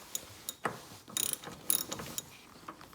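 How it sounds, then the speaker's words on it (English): A hand ratchet clicks in short irregular bursts, close and fairly quiet, as it loosens the negative battery terminal clamp on a 2018 Toyota Sequoia, with no talking. "I probably can spin the ratchet by hand"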